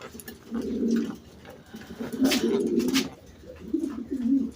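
Pigeons at a breeding farm coo in repeated low, throaty bursts close by while being handled for sale, with a faint rustle between calls.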